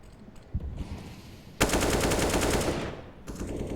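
Sustained automatic rifle fire from a Counter-Strike match on Vertigo at a professional tournament, a quiet start with a single shot, then a loud continuous burst of rapid gunfire lasting over a second before easing off.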